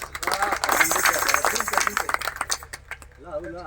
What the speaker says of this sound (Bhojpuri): जरा जोरदार ताली हो जाए